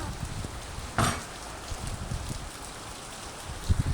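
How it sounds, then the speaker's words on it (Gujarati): Rain falls steadily outside a home, a soft, even hiss of drops with a few sharper splashes. It is fairly quiet and close, with no talking. "ખૂબ મસ્ત વરસાદ આવે છે"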